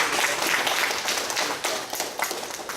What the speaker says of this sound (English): I think it's a good round of applause for the team.